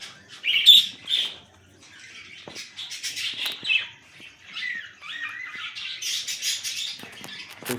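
Caged budgerigars, green, albino and lutino birds, chirp and squawk in quick overlapping bursts, close and clear against a quiet background, with the chatter rising and falling but never stopping.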